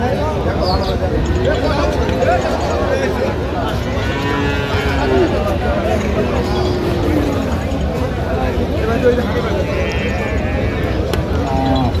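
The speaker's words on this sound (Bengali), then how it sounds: "গাভী বাছুর আমরা দেখছিলাম এখানে" Several cows and calves moo repeatedly at Aftabganj cattle market in Dinajpur, Bangladesh, long drawn-out calls overlapping amid a busy crowd of talking voices, close and loud.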